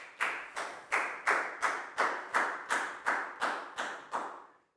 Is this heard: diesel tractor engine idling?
no